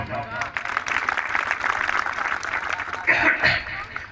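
Crowd clapping and cheering at a community youth organisation gathering, a dense, steady wash of applause lasting throughout, with a louder burst of shouts and voices near the end.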